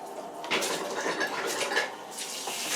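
Water gushes and splashes steadily with a faint metallic clatter as a Bradford White water heater tank drains, a short continuous sound with no voices.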